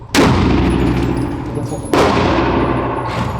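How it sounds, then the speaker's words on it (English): A Taurus Judge revolver firing .410 shotgun shells: two loud, close shots about two seconds apart, each leaving a long ringing decay outdoors. "It is a Taurus Judge, and it is chambered in .45 Colt or .410 shotgun shell, and we're going to be shooting the .410 shotgun shells in it today"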